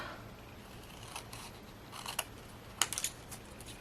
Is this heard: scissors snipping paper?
yes